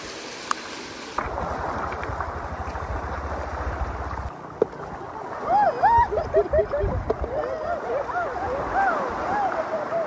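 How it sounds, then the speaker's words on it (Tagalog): Strong sea waves churn and splash with a rushing wash on a beach in Japan, while people talk and call out over the steady roar of the surf. "Malakas pa din yung alon."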